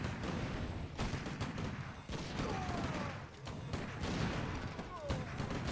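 Cluster rockets fire in Age of Wars during a competitive match, sounding as a dense run of thumping, booming volleys with rapid repeated blasts mixed into busy game noise and talk.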